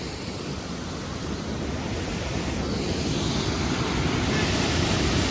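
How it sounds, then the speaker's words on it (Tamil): Law's Falls near Coonoor gives a dense, steady roar of falling water that fills the whole recording without a break and swells slightly toward the end, with no voices. "இதுதான் பார்த்தீங்கன்னா லாஸ் வாட்டர் ஃபால், லாஸ் நீர்வீழ்ச்சி"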